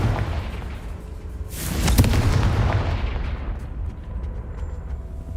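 Confringo fire spell from Hogwarts Legacy, a single loud, close explosion that swells into a deep booming burst and then rumbles away over a few seconds, with no talking over it.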